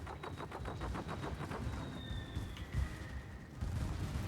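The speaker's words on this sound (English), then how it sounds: "And Tokyo is bombing Wolfgang's Moskva." Bombing strike on a Moskva cruiser in World of Warships, heard as rapid crackling bursts of gunfire and distant explosions under faint game noise.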